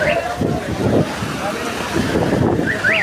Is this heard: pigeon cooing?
no